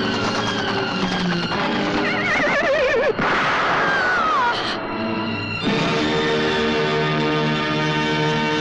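A horse whinnies with a high, wavering neigh in the middle of a loud, dense dramatic score during a chase scene in a 1982 Bollywood action film.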